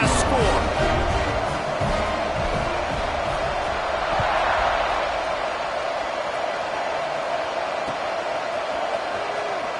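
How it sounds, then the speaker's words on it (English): Stadium crowd noise in the College Football 26 video game, a dense, steady roar of fans buzzing throughout after a score, with a commentator talking over it. "this crowd is buzzing after that last score"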